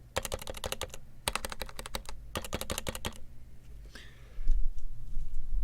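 Rapid, crisp clicks of typing on an HHKB keyboard with typewriter keycaps come in three quick runs separated by short pauses, then stop, leaving faint background noise.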